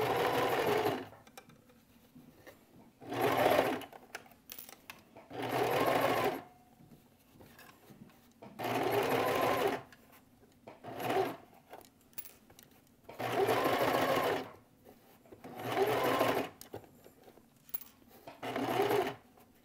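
A sewing machine chain-pieces fabric in repeated short runs: bursts of fast, close stitching lasting a second or two, separated by brief quiet pauses as each piece is aligned, with a regular stop-start rhythm.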